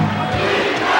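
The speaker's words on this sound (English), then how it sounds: "Crowd looking for a reason to get back into it." Basketball arena crowd at a 1996 Lakers–Bulls game roaring in a dense, loud wash of cheering voices that stays steady throughout the brief moment.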